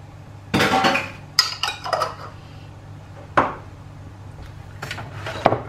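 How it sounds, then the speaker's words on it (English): Chunky garlic is stirred in a dry pan for a cauliflower dish, giving a few scattered scrapes and clinks of utensil against cookware, close and fairly loud with quiet gaps between. "Just give that a little stir, spread it out."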